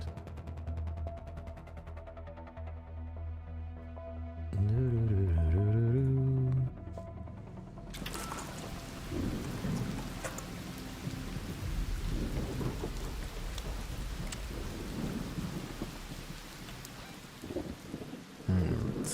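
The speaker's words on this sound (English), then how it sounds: "an electromagnetic storm is currently raging over topside. Beware the lightning strikes if you're outdoors" Electromagnetic storm in the game Arc Raiders, with a loud thunder crash and wavering electric crackle giving way to steady rain and rumbling thunder that continues throughout, with no talking.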